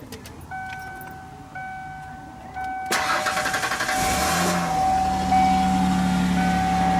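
A 1994 Ford Explorer engine cranks with a sharp catch near the three-second mark, then fires and settles into a steady idle after a fuel pump replacement. A few key jingles come first, and the running engine stays loud and close.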